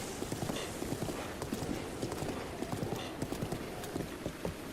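Horse hooves clip-clopping in a Zelda game, a brisk steady rhythm of close, crisp hoofbeats continuing without pause over a dense bed of background noise.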